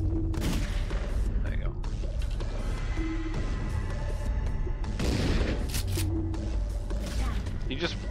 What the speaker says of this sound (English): He just blocked a shotgun attack.